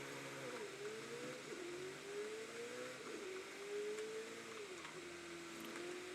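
Video game cars driving at night, a smooth engine whine rising and falling in repeated sweeps as the car shifts up through gears, steady and moderately loud with no talking.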